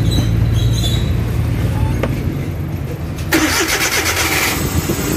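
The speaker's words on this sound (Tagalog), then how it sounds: "So start natin yung makina guys, after natin maglagay ng hado engine treatment." A Suzuki K6A engine with a knocking timing chain and vibrating main journal, freshly dosed with engine treatment, cranks and catches midway, then runs on with a steady close-up mechanical clatter over a low rumble.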